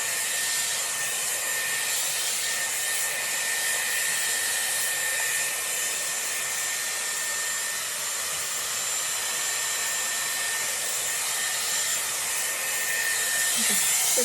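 A Dyson Airwrap round brush blow-dries hair on medium heat with a steady, continuous high-pitched whirring blow, close and unbroken throughout, with no talking.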